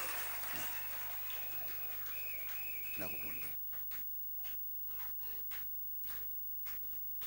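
A church congregation applauding, a dense burst of clapping for a few seconds that thins into scattered, separate claps, with a voice speaking over the start.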